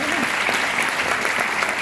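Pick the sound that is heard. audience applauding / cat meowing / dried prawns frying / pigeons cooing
audience applauding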